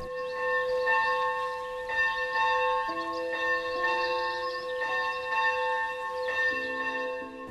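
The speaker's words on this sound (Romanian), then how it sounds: "Clopotul dimineții cheamă maicile la o nouă zi de slavă pentru Hristos" Morning church bell at Agapia Monastery, a mountain convent, rings in a steady series of resonant strikes with long sustained tones layered over one another, clear and fairly close, with no talking.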